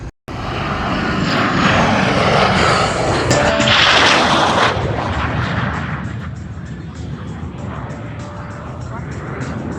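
Propeller airplane passing at an airshow in North Alabama, a loud sustained engine roar that swells and slowly fades, with people talking in the background.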